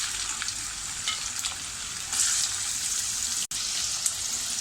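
Finely chopped onion sizzles steadily in a generous pool of hot oil for dhaba-style chicken lapeta, a loud, even frying hiss with small crackles and one brief dropout near the end.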